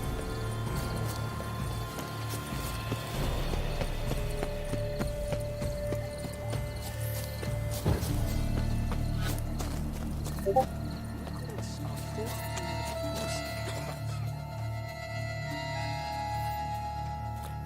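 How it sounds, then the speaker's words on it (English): Steady clip-clopping horse hooves fill the scene in the video game The Witcher 3: Blood and Wine, with a brief whinny and a sharp thud partway through, over a low ambient hum. "It's a horse, idiot."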